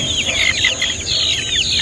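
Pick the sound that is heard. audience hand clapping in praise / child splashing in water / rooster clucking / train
rooster clucking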